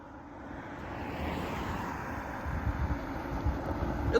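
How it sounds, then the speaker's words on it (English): An eastbound Norfolk Southern intermodal train approaches Hoover Road near Sandusky, Ohio. A low, steady rumble builds gradually and grows louder and rougher as the train draws nearer, with no voices. "this train is a intermodal train"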